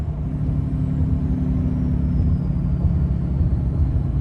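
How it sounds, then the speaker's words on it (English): Exhaust turbo brake on a Ram Cummins 6.7L pickup towing an empty trailer downhill, a steady, loud low-pitched diesel rumble that drones evenly throughout with no breaks. "Go ahead and let the turbo brake do its magic."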